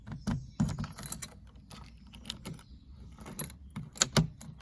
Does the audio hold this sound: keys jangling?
yes